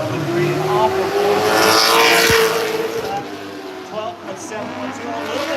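A race car laps a racetrack, its engine note roaring and sweeping in pitch as it passes, loud at first and then fading, with a commentator talking over it.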